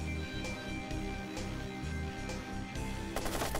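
Rapid bursts of gunfire in the video game Watch Dogs crackle over a steady game soundtrack, sharp and close, with no talking.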